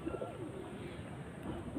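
A high-flying pigeon, held in the hand, gives a soft, low coo that is faint and brief against a quiet background hum.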